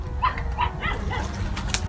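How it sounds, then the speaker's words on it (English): A small, frightened puppy trapped inside a narrow plastic pipe, giving a few high, thin whimpering yelps over a low, noisy background. "their ears picked up the faint, pitiful cries of a puppy in distress"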